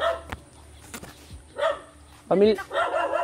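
A dog near a house in a quiet forest barks in a few short, sharp bursts with pauses between, fairly close and loud, the last bark the strongest.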